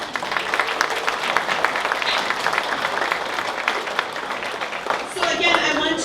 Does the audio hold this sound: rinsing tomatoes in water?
no